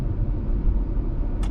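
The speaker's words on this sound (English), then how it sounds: "the low rumble sound of an engine is the type of sound that is pleasurable" A car engine's steady low rumble drones continuously at moderate volume, with a brief faint higher tone near the end.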